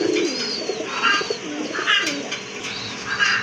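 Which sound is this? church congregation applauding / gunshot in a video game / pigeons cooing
pigeons cooing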